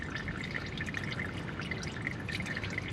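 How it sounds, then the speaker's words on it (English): Engine oil from a Dodge Charger Hellcat trickling out of the drain into a pan, a steady faint pattering drip-and-pour sound without a break, close by and alone. "We want it to be drips every 10 seconds."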